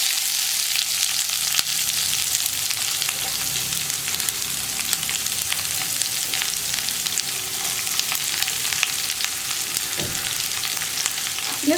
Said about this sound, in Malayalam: ഈ സവോള ഒന്ന് നന്നായിട്ട് വഴറ്റിയെടുക്കുക.